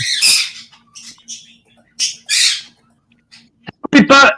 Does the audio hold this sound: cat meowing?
no